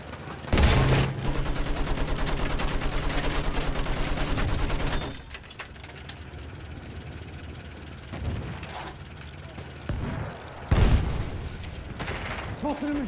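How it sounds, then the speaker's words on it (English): Machine gun fire in the Battlefield 1 video game: a long, fast, loud rattling burst for several seconds, then scattered booms and distant explosions, with game sounds continuing underneath. "Spotted a machine gun."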